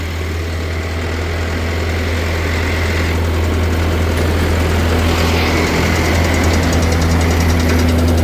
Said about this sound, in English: And now we're gonna start the PTO on this tractor.